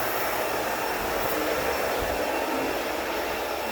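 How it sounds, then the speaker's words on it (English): A HEPA vacuum cleaner runs steadily during new-construction cleaning, a continuous broad, loud whooshing roar with no pauses and no voices. "Is a HEPA vacuum. Vacuuming all over."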